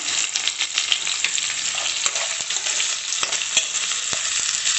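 Onions and potatoes fry in a pan for poha, giving a loud, dense, continuous sizzle close up, with fine crackling and a few soft stirring scrapes.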